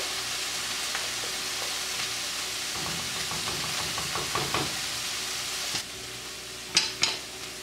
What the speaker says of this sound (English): In my white sauce, I'll be placing in 2 cups of frozen broccoli. Just mix it around.